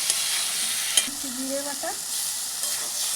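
Chopped tomatoes and spice paste fry in a pan for a Bengali fish kosha, making a continuous hiss with a few sharp stirring knocks as a voice speaks briefly.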